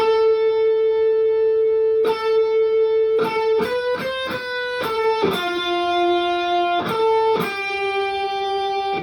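A sustained distorted electric guitar plays a slow melody, each note held long with sharp changes between them, loud and alone.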